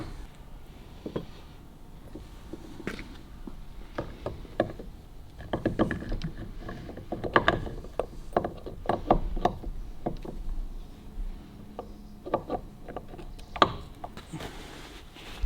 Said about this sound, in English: So let's pop our main shaft out.